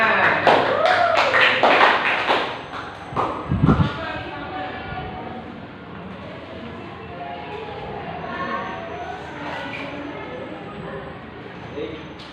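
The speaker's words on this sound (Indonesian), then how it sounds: "Tepuk tangan." Schoolchildren in an elementary social studies class clap in a short burst of sharp, close claps at the start, which fade into a steady murmur of classroom voices.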